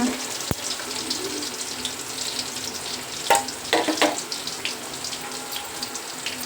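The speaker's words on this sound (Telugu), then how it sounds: "నాకు ఈ శనగగింజలు అంటే శనగపప్పు ఎక్కువ వేసుకోవడం నాకు నచ్చదు, అందుకోసం నేను కొంచెం వేసుకుంటున్నాను." Mustard seeds and a small amount of chana dal frying in hot oil for mango rice, a steady close crackle and hiss with a few sharper pops and spatters partway through.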